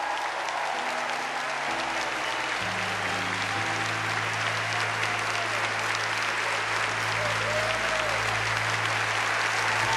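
Long, steady applause from a large audience at a Catholic lecture by a priest, continuous dense clapping with sustained low tones underneath throughout.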